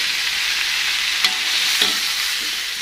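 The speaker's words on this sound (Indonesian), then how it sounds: "Kita aduk-aduk." Tongkol fish in balado chili sauce sizzles loudly in a frying pan as it is stirred, with a dense steady crackle and a couple of faint scraping knocks from the utensil.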